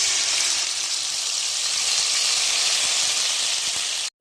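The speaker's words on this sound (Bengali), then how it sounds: "ফোড়নটা হয়ে গেলে সর্ষে, পোস্ত আর কাঁচা লঙ্কা যে বাটাটা রেখেছিলাম সেই বাটাটা আমি দিয়ে দেবো।" A paste of mustard, poppy seed and green chili hits hot oil tempered with black cumin while a vegetarian pointed gourd dish is cooked, giving a loud, steady sizzle that carries on alone and cuts off abruptly.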